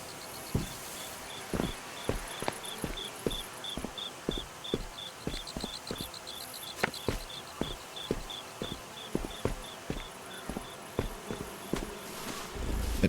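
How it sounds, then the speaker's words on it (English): Insects buzz in the Viewfinder video game, a faint continuous drone under regular soft footstep thuds and light game sounds. "I hear bees. Why do I hear bees?"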